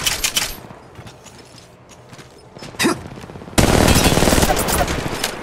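Enemy gunfire crackles through an online battle-royale shooter as rapid automatic bursts, first intermittent, then a loud dense sustained fusillade close by, with the player's voice heard in the action.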